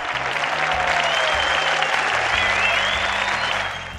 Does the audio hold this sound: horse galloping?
no